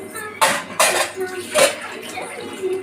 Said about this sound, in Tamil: 3 செம்பு தண்ணி போடுறேன்.